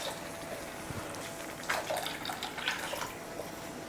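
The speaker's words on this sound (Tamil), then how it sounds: "மிக்ஸி ஜாரை கழுவி தண்ணி சேர்த்துடலாம்." Water splashes and trickles into a mixer jar for a few seconds, a light running pour with small splashy bursts, close by and fairly quiet.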